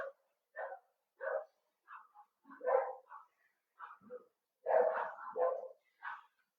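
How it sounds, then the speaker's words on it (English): Several dogs bark at the neighbors in a morning exchange: short, punchy barks in irregular bursts, some doubled, close by and fairly loud, with no talking over them. "Excuse my dogs having their morning connect with the neighbors."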